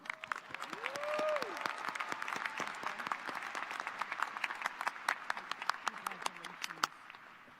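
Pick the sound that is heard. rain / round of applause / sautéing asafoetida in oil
round of applause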